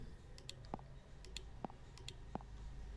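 Three sharp computer mouse clicks at even intervals, close and crisp over a faint steady room hum, during work on a React Native todo list app.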